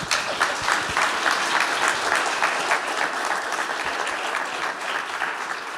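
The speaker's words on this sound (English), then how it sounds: "A round of applause for our panelists" Sustained audience applause for conference panelists at a nature markets event, a dense even wash of many hands clapping that holds steady and fairly loud throughout.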